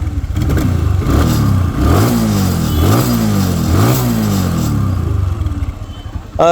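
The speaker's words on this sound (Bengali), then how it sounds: "তো বাইকটা স্টার্ট করবো তারপর চলে যাবো প্রাইজে" A second-hand TVS Apache RTR 160 4V motorcycle engine is revved up several times in a row, rising and falling in loud, close bursts over a rough idle.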